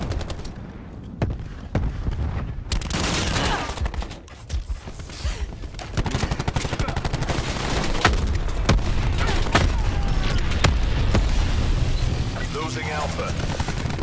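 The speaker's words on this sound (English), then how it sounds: "Cluster grenade." Cluster grenade explosions and rapid gunfire from the Black Ops 4 video game, with repeated sharp bangs and booms over steady game noise and a crackle of shots, while players talk throughout.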